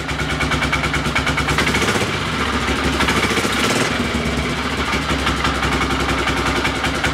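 A Polaris Sportsman 500 ATV engine, running without its airbox and prone to backfiring and bogging, idles with a steady, loud, throbbing putter close by, with no talking.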